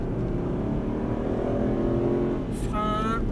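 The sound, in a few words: car accelerating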